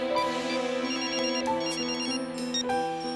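A phone ringtone plays loud and close, a continuous electronic melody of repeating tones that runs the whole time with no voices over it.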